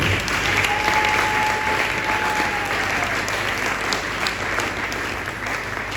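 Church congregation at a Sunday service applauding, a dense, loud, sustained clapping that fills the hall and fades slightly toward the end.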